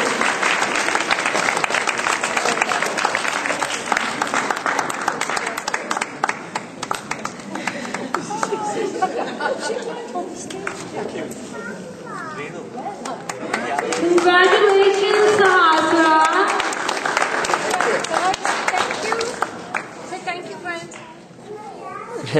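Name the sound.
applause at prize giving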